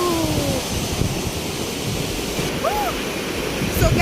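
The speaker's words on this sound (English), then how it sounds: "I can feel like the water splashing on me" Rushing water at Thompson Falls waterfall makes a loud, continuous roar close by, dense and unbroken for the whole stretch.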